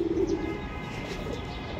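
Pigeons coo from a rooftop loft, a low throaty coo heard close at the very start and then fading into a quiet ambient background with faint bird chirps.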